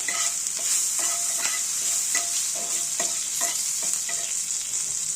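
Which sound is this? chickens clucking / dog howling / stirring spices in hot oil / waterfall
stirring spices in hot oil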